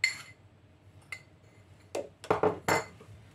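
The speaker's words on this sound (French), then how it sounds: "Je mélange tous les ingrédients." A spoon clinks and scrapes in a bowl while coconut pearl ingredients are mixed with tapioca flour: several sharp, close clatters, sparse at first and then bunched near the end, with no talking.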